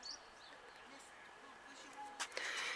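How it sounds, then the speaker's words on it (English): Birds chirp and tweet faintly in a spring garden, scattered short calls at a distance with a louder burst near the end, while a person talks quietly nearby. "Can you hear the birds singing?"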